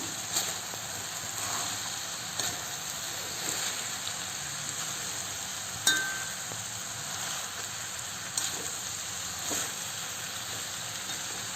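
Drumstick flowers and jackfruit seeds stir-fried with grated coconut in a pan, a soft steady sizzle with intermittent scraping clinks of a spoon stirring, fairly quiet and close.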